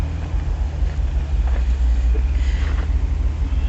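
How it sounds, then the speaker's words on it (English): A 1994 Jaguar XJ12 V12 idles roughly, a low steady rumble with uneven pulsing, heard close amid wind and outdoor noise with no talking. "You can hear it idling a little bit weird."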